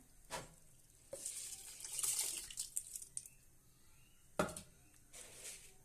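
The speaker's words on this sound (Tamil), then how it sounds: "இப்போ நான் அரிசியை எடுத்து வாஷ் பண்ணி வச்சுருக்கேன், போடுறேன்." Washed rice tipped into water in a pressure cooker while making coconut rice, giving a couple of short splashing pours and wet rattling with soft stirring in between, close up and fairly quiet, with no talk.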